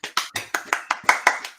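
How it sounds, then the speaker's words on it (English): A small studio audience claps to welcome guest Andy Bounds onto SalesTV, giving about nine sharp, evenly spaced claps that sound close and clear with no voices. "Thank you for the applause."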